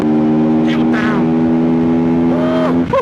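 A Benda LFC700 motorcycle engine held high at the top of its rev range on a dual carriageway, a loud, steady droning whine with wind rush, rising briefly near the end as a voice talks over it.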